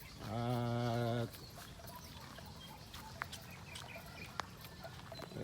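A rooster in a breeding pen gives a short, loud harmonic call lasting about a second, followed by faint scattered clucks and light rustling nearby.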